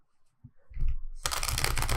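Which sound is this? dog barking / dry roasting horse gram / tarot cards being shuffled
tarot cards being shuffled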